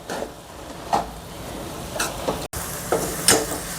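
A spoon scrapes and stirs grated carrot halwa in a pan with a faint sizzle, in a few separate soft strokes spread unevenly over a quiet, steady cooking hiss.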